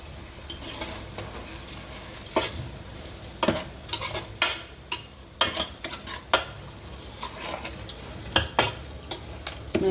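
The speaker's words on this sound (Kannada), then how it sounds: "ಮೆಂತ್ಯ ಸೊಪ್ಪನ್ನ ಚೆನ್ನಾಗಿ ಫ್ರೈ ಮಾಡ್ಕೋಬೇಕು." Fenugreek leaves fry in a pan, with scattered spoon scrapes and clinks against the metal over a steady soft sizzle, and no voices.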